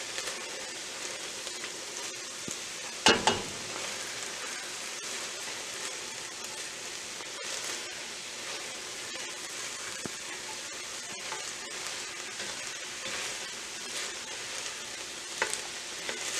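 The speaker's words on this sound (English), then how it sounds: "Stir it around and let it cook a little bit." Chicken gnocchi soup ingredients cooking in a pan, a soft continuous sizzle with occasional scrapes and clatters of a spoon stirring, close and fairly quiet, no talk.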